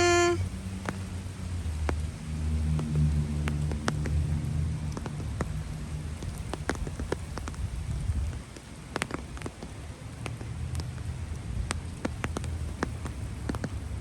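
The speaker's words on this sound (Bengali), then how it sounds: "বৃষ্টি শুরু হয়ে গিয়েছে।" Rain falls steadily during a storm under a tornado warning in a small-town neighborhood, a dense continuous patter with scattered sharper drops nearby and a low rumble that eases partway through; no one speaks.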